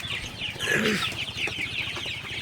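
Chickens clucking and murmuring in a busy group inside a poultry shed, with overlapping calls and a louder cluck near the start.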